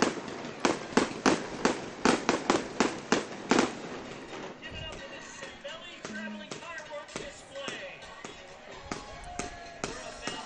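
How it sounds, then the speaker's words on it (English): Fireworks from a holiday boat parade on the Intracoastal Waterway pop and crackle in a quick series of sharp bangs, then scattered bursts continue with crackling and a faint whistle, heard from a distance. "puts on a great fireworks show every year"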